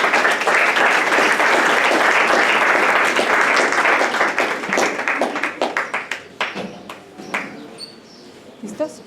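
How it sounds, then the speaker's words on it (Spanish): An audience applauds panel members at a question-and-answer session, the clapping loud and dense at first, then thinning into scattered individual claps as it fades. "Entonces, den un aplauso a todos ellos."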